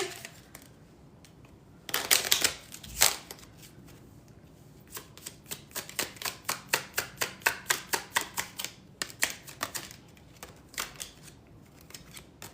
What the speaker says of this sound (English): We're going to pull a couple of letter cards to see if we can get some initials here.